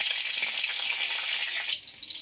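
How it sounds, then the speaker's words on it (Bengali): Slit green chillies hit hot refined oil in a home kitchen, giving a bright steady hiss of frying close by that drops off abruptly near the end. "তেলটা গরম হয়ে গেছে। আমি যে দুটো কাঁচা লঙ্কা চিড়ে রেখেছিলাম ওটা দিয়ে দেব।"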